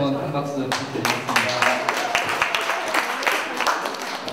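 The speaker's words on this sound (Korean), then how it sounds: "큰 박수 부탁드리겠습니다" Audience at a university festival breaks into steady applause, a dense wash of many hands clapping that swells and continues throughout, heard from within the crowd.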